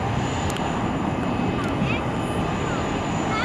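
A Singapore Airlines Airbus A380 jet takes off at Zurich airport, its engines a loud, steady broadband roar that fills the whole stretch without letup, with faint radio chatter over the top.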